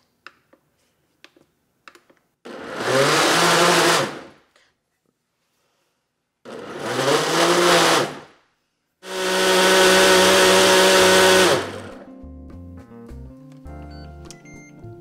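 A powerful Ninja Foodi Cold & Hot Blender making enchilada soup whirs loudly in three separate bursts, each a few seconds long with silence between, followed by a few beeps.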